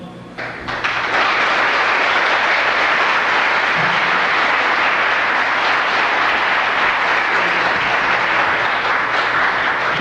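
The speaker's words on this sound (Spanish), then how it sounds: "un aplauso fuerte" An audience at a religious gathering bursts into loud, sustained applause that builds in the first second and continues steadily throughout, with no talk.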